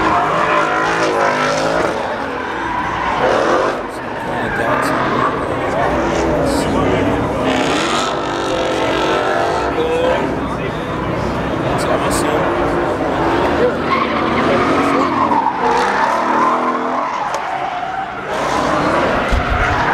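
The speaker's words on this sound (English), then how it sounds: "There's some serious drifting going on in the background." Engines roar continuously as cars drift at SEMA 2018, with tire squeal mixed into a steady loud din; voices talk over the noise.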